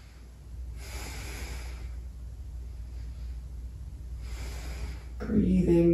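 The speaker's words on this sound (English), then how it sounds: "Breathing, deep breaths." Deep breathing during a full-body stretching routine, slow steady inhales and exhales with soft airy hiss, close to the microphone, ending in a louder breath.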